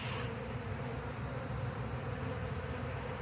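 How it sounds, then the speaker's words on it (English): Honey bees swarm and buzz around a rescued hive with broken honeycomb nearby, a dense, steady drone of many insects close to the microphone that holds throughout without pause. "There's still so much activity around the hive"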